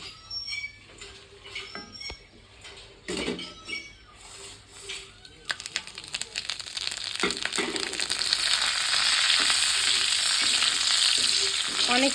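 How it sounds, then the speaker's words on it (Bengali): Bay leaf, dry red chilli and panch phoron are dropped into hot oil. Scattered clatter and stirring come first, then a dense sizzle swells and holds loud and steady through the second half. "ফোড়নে দেবো হচ্ছে তেজপাতা শুকনো লঙ্কা আর হচ্ছে পাঁচফোড়ন"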